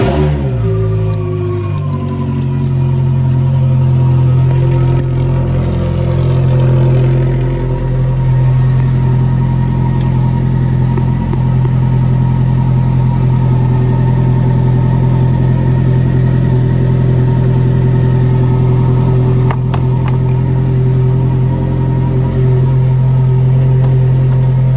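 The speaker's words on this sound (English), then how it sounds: "start the car and get the fuel pump running just for a minute" A Ferrari F430 engine idles steadily with a deep, even hum and slight rev variation early on, close and loud with no talking.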